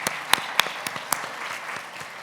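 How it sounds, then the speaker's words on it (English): Brief applause from an audience at a dementia research awareness event: a soft wash of clapping with a few sharper claps standing out. "A few round of applause."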